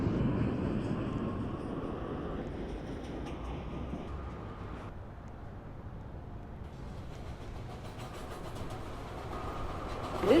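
A New York City subway train pulls into a station, a steady, heavy rumble of wheels and cars on the rails that fills the platform for about ten seconds, ending in a brief high brake squeal.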